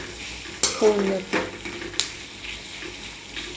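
Onion roasts in a pan for a coconut-onion masala paste, with stirring scrapes and light sizzling in short bursts while someone speaks briefly.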